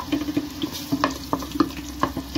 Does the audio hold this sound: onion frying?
yes